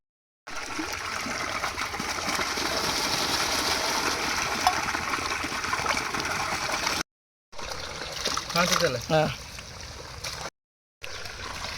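A whole turkey is rinsed under running water, making a continuous rushing pour broken by a few short pauses and splashy bursts. A brief vocal murmur comes in near the middle.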